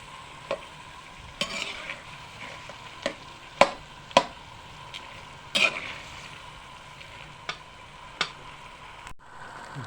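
Stingray simmering in coconut milk with condiments in a pan, with steady soft sizzling and bubbling under a dozen or so sharp utensil clacks and scrapes from stirring, spaced irregularly and fairly close.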